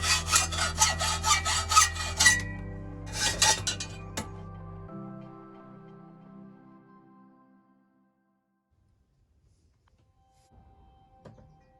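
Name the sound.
sawing off the levers of a bike rear carrier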